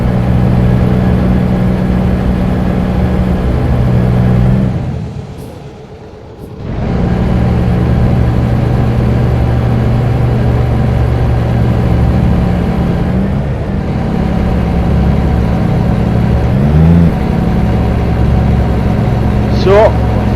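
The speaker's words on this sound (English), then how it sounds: "this is a small engine Volvo by the looks of it" A small-engine Volvo truck drives at steady speed in American Truck Simulator, its low engine drone humming continuously with a brief dip in volume partway through, while someone talks over it.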